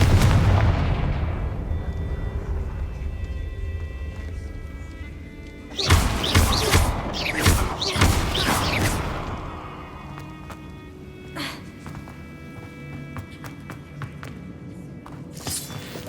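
Confringo fire spell blasts cast in the Hogwarts Legacy video game on Xbox, a burst of loud crackling booms and impacts over a low rumbling game soundscape, fading to quieter ambience and scattered thuds.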